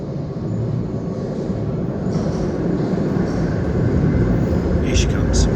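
A London Underground Bakerloo Line train in Train Sim World rumbles steadily as it arrives at Piccadilly Circus, a loud low roar throughout with faint higher tones near the end.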